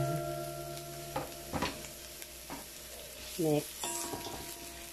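Sliced onions go into a frying pan for a Bicol Express and sizzle with a steady hiss, joined by a few sharp stirring scrapes and clinks. A short spoken word and a brief whistle-like tone sit over the frying.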